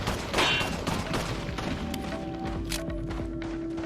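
Handgun fire in Resident Evil 4 cracks out as a quick run of sharp shots, close and punchy, with game effects ringing underneath.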